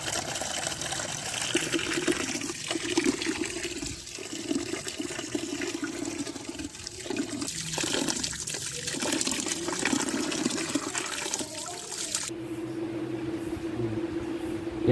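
Water drains and trickles steadily from freshly washed rice for chicken pulao, a continuous close splashing and dribbling that thins out near the end; no talking.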